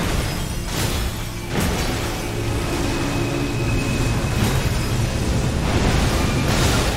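An explosion in Elden Ring booms out loudly, followed by sustained rumbling and further bursts in a dense, continuous wash of game battle noise.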